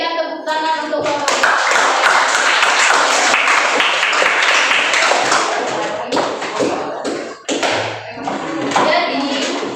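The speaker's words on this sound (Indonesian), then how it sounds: "Berikan tepuk tangan untuk Bapak." An audience at an Indonesian school coaching session applauds a man with a loud, dense burst of clapping that thins into scattered claps and taps toward the end.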